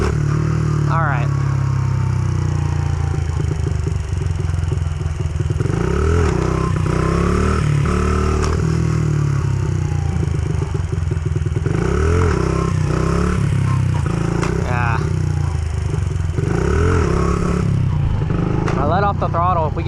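A motorcycle being ridden for stunt practice, close and loud: the engine revs rise and fall repeatedly as the throttle is opened and let off, with a steady drone of wind and engine underneath and a voice talking over it.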